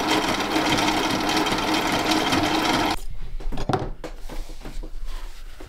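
A Sailrite sewing machine stitches through old denim jeans aboard a boat, a fast steady mechanical whir for about three seconds, followed by quieter clicks and fabric handling noises.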